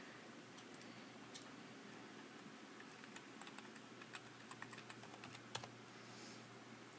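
Quiet, uneven keystrokes tapping out a password on a computer keyboard, a close run of light clicks over faint room hum with no talk.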